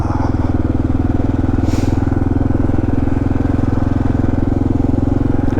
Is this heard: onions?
no